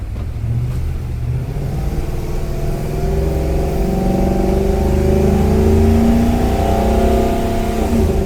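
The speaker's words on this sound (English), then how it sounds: "let's see the acceleration of the old Godzilla V8" The Godzilla V8 engine of a Thor RV pulls hard under acceleration, its drone rising steadily in pitch across several gears, loud and continuous from inside the cabin.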